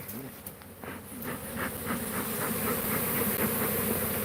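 Honey bees hum steadily from an opened beehive during an inspection, a dense, continuous buzz close by that swells slightly in loudness and carries on alone without talk.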